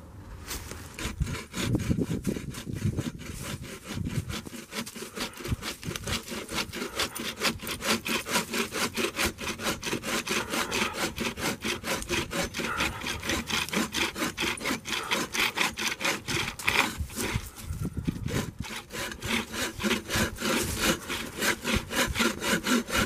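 Hand saw cutting through a dense tree trunk while camping outdoors, a loud, close, rapid rhythmic rasp of back-and-forth strokes running steadily for over twenty seconds.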